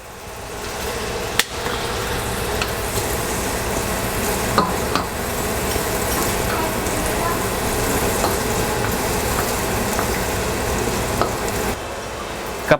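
Fried rice ingredients sautéing in a pan, a constant close sizzle with scraping stirs and a few sharp clanks of a utensil against the metal, with no talking.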